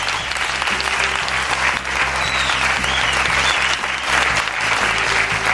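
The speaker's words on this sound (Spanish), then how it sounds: "Pues un aplauso, que se sientan." Steady, dense applause from a seated audience at a castle event in Toledo, loud and continuous throughout with no voices breaking through.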